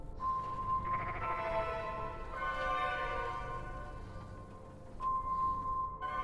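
Sheep bleat loudly in drawn-out, wavering cries, one call after another with short gaps, heard fairly close against a quiet background.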